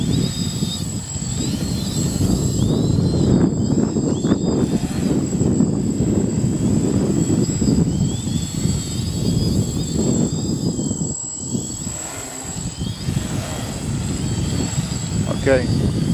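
An ArduCopter drone flying over ice, its motors giving a continuous loud whirring buzz throughout, with wind noise and someone speaking in the background.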